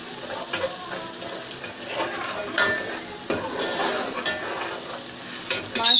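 Masala for dhaba-style mash daal fries in a pan with a continuous close sizzle, punctuated by occasional scraping and clinking strokes of a spoon stirring it.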